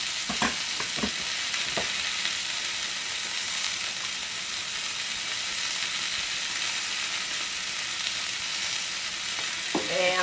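Garlic sizzling steadily in a hot pan, with a few scraping stirs near the start and end over the continuous frying hiss, close by and without voices.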